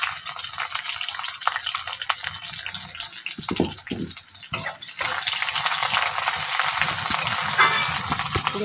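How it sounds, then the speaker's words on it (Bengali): Chickpeas frying in a pan with onion and green chili give a steady hiss and crackle with a few sharper stirring clatters, the sizzle growing denser and louder toward the end. "দেখুন বুট ভাজতে আসছে।"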